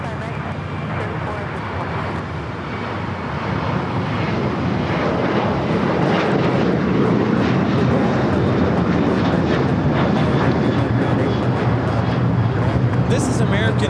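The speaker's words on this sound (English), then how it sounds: "American Airlines 1084 taking off to Chicago on the 737-800" An American Airlines Boeing 737-800 takes off from Los Angeles airport, its broad engine roar building and holding steady and loud, with people talking faintly underneath.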